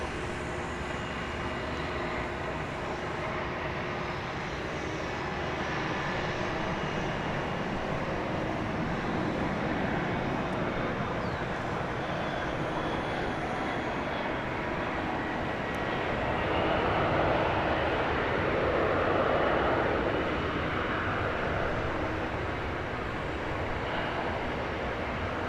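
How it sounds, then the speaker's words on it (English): An Airbus A300 airliner arriving at DFW airport, its jet engines producing a steady broadband roar that swells slightly toward the end, heard from a distance with no talking. "now let us check out the A300 arriving from Houston"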